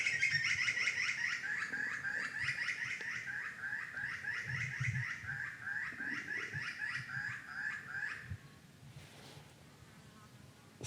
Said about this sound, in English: So nice little bird recording there that I just happened to capture.